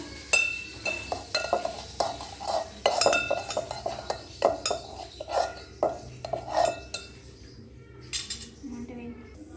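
Ginger being stirred into a cooking pot, a spoon scraping and clinking against the metal in a steady run of sharp knocks and scrapes, close and fairly loud, with faint sizzling underneath.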